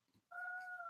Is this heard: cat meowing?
yes